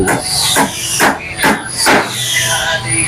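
Nails are hammered into a plywood speaker box, with loud, close strikes landing in a steady rhythm about every half second, roughly seven blows in all.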